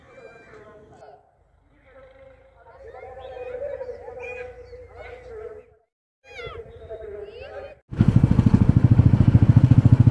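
A motorcycle engine roars up suddenly and runs loud and close for the last couple of seconds, after a stretch of voices and cat-like meowing, as riders set off toward nearby flower gardens in Panskura.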